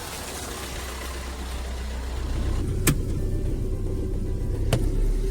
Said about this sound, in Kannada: ಗಾಡಿ ಬಂತಿವಾಗ ಇವಾಗ